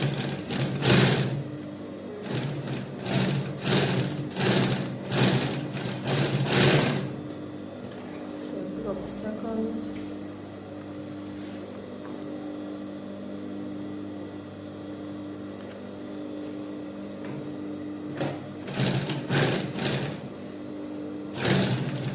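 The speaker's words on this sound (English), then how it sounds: "Then we sew." Sewing Ankara fabric for a backpack, a machine runs in quick stop-start bursts, goes quiet through a long low-humming stretch in the middle, then resumes with more short runs near the end.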